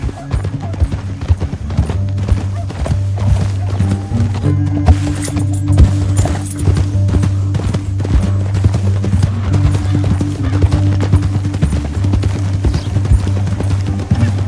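Horses gallop in Red Dead Redemption 2, a dense, loud drumming of hooves pounding steadily for the full stretch over a low droning score, with occasional thuds and a faint whinny.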